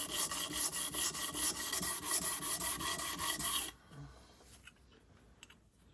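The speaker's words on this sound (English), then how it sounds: "just rub it backwards and forwards" Steady back-and-forth rasping of a knife tang rubbed on a flat plate to check for high and low points, close and even strokes for about four seconds before stopping into quiet.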